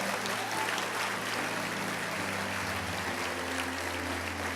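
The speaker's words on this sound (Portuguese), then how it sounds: "Se é para Jesus, aplauda." A church congregation applauds during a sermon, a broad wash of clapping with a steady low hum underneath, continuous and moderately loud.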